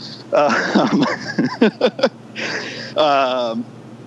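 A dog on a walk uphill gives short yips and a drawn-out whimper close to the mic, mixed in with a person talking over it.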